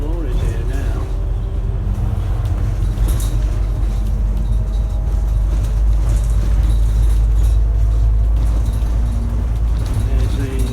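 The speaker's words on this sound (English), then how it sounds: "There's the number 1 bus coming the other way, on his way from Loughborough." A number 1 bus from Loughborough passes on the road near a gypsum lorry yard, its engine a steady low rumble heard from inside another bus, with a voice talking over the drone throughout.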